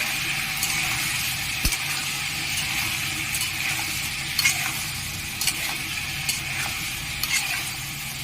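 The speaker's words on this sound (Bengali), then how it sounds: "একটু হলুদ গুঁড়ো দিয়ে দেবো এটা আমি লাল লাল করে ভেজে নেব" Potato pieces fry with turmeric in a pan, giving a steady, close sizzle, with occasional scraping stirs and light clinks over it.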